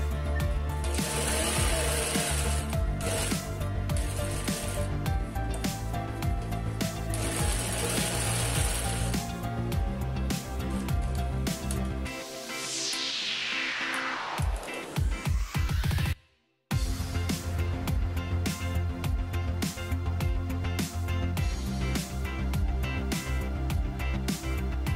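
A sewing machine runs in long continuous bursts while stitching the last side of a bag, its motor whirring with a steady rapid rhythm, briefly pausing and slowing midway before resuming at full pace.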